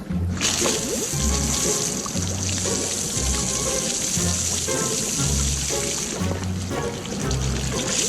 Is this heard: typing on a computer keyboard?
no